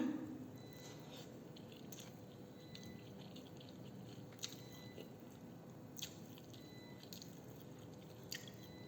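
Soft, wet chewing and squishing from people eating a festive meal in Pakistan, faint and close with occasional small clicks of utensils, under a low room hum.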